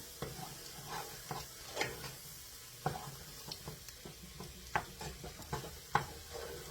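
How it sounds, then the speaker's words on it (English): Flour being stirred into a pot to cook a roux for lobster or crab bisque, with a steady faint sizzle under repeated scraping and stirring strokes. The spoon knocks against the pot at irregular intervals. "Until that flour, we're going to mix it all up so it's incorporated and it starts cooking a little bit."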